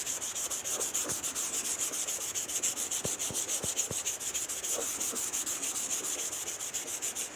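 Rapid, rhythmic back-and-forth scraping of 240-grit sandpaper wet sanding paint, close and steady throughout, with a few soft knocks midway.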